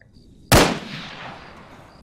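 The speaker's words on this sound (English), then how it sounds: "This gun makes a lot of noise!" Two sharp, loud gunshots ring out in ARMA 3 with the Breaking Point zombie mod, about a second and a half apart, the first trailing off into a long outdoor echo.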